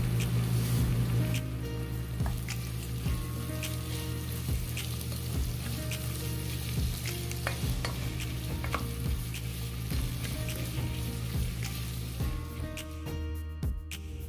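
Onions sautéing in a pan with a little salt for a mutton curry, a steady close sizzle and frying hiss with occasional stirring scrapes throughout.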